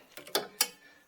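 A torque wrench tightens a lower control arm bolt on a Chevy Cobalt, a few quick ratcheting clicks and then two sharp clacks close by, with no talking.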